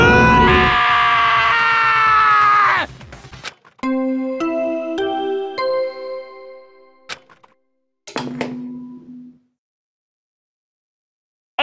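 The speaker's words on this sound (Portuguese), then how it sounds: "O Taka chega depois de ouvir os gritos e..." A long, loud scream in a murder mystery video game lasts about three seconds. Bright chiming tones follow, then another short ringing chime and silence.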